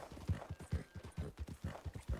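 A horse's hooves clip-clop at a steady walking pace in Red Dead Redemption 2, crisp regular hoofbeats repeating close up, with no voices over them.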